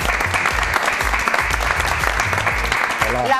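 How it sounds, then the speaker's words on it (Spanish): Studio audience applauding on a Spanish television show to welcome a writer, loud and close, a dense continuous clapping with a little voice and music mixed in beneath it. "un aplauso"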